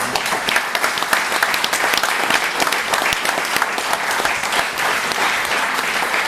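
Theatre audience applauding the cast after an amateur play, dense sustained clapping from a full room, loud and continuous with a few louder individual claps on top.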